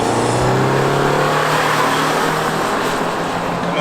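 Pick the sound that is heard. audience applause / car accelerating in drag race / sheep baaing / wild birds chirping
car accelerating in drag race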